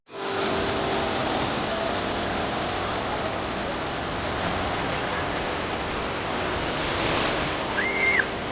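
Sea waves crash and surge continuously at Murud Beach, a steady broad roar of surf with wind noise, holding loud and even throughout with a slight swell near the end.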